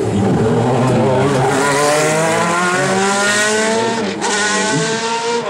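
A Formula 1 race car runs loudly on a track, its high engine whine rising and shifting in pitch as it passes close by, strong and continuous throughout with a brief dip near the end.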